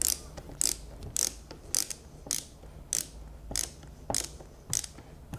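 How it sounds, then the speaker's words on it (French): Two screws are driven into a flange on a tank bottom with a ratcheting tool, making regular bursts of sharp clicking about every half second, close and clear with no talk. "je vais venir visser deux vis sur les deux trous que j'ai repérés sur la bombe de fond"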